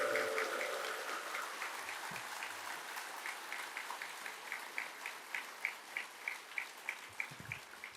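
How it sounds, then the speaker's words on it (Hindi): Audience applause at a Hindi spiritual satsang gathering, a steady wash of many hands clapping that settles into rhythmic, evenly spaced claps, moderately loud and continuous. "एक बार सभी एक दूसरे के उत्साहवर्धन में तालियों की गड़गड़ाहट कर रहे हैं।"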